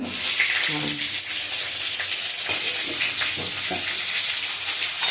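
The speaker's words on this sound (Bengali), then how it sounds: "জিরে গুঁড়ো দিলাম, দিয়ে কাঁচা লঙ্কা ফোড়ন দিলাম।" Green chillies and ground cumin sizzle steadily in hot oil, a loud continuous frying hiss with occasional stirring scrapes close by.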